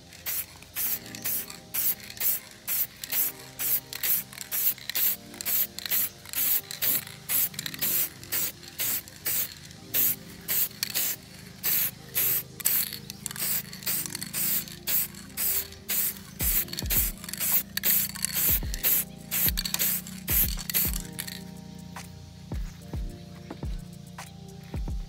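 Rapid bursts of aerosol clear coat hiss onto a car headlight, dozens of short, evenly repeated sprays close by, with a few soft knocks and a faint background hum near the end.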